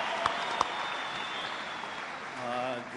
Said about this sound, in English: Let's clap hands for her.